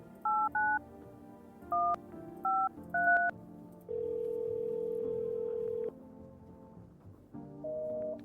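Telephone dialing in the game No, I'm Not a Human, a short run of about five clear DTMF keypad beeps, then a long steady tone and a lower ringing tone, alone.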